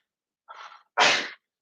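A single sneeze, close and loud: a short breathy intake followed by a sharp explosive burst, with silence around it.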